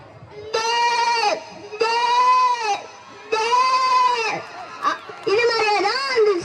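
A voice imitates a flock of sheep bleating, with four loud, wavering bleats in close succession, performed at a government high school annual day event.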